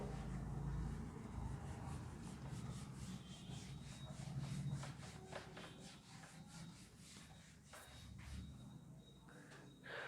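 A duster or cloth rubs across a classroom board to erase it, producing a soft, steady scrubbing with faint repeated strokes, fairly quiet.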